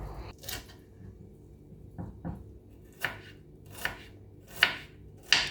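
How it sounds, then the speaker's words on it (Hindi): A knife chopping a medium onion on a cutting board, a handful of sharp, separate thuds that get louder toward the end, over a quiet background with no talking. "इसमें मैंने एक मीडियम साइज़ का अनियन लिया जिसको मैं चॉप कर रही हूँ"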